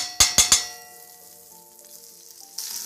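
A tablespoon and a half of butter sizzles in a pan over lowered heat while a utensil scrapes the pan bottom, three quick sharp scrapes up front, then a soft steady sizzle and a faint late rise.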